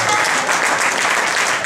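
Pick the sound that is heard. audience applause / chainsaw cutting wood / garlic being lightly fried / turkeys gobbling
audience applause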